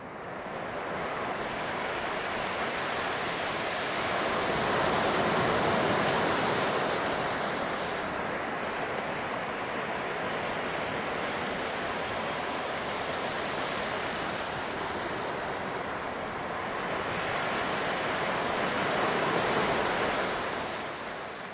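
Beach surf and wind at Rollover Pass on the Texas coast, a steady loud wash of breaking waves with gusting wind buffeting the microphone, swelling and easing without a break and no voices.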